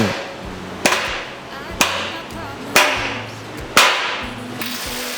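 Four sharp metallic hammer blows spaced about a second apart, driving 16mm expansion anchor bolts through a steel reinforcing plate at a construction site, each strike ringing briefly with no talking.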